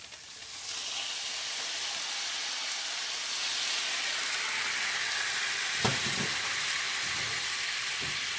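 Tofu sizzles steadily in a hot pan once sauce goes in, a loud continuous frying hiss with a few brief clattering stirs near the end.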